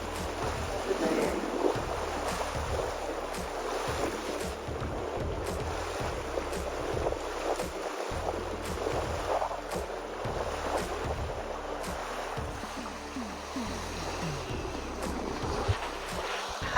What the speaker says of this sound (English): We're sailing on the yacht